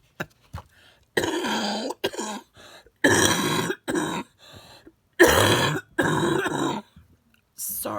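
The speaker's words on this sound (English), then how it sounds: "When I talk, I cough." A series of harsh coughs and throat clearing in irregular bursts, close and loud, separated by short silences and a few quiet breaths.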